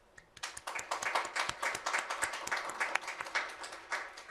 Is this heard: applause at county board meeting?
yes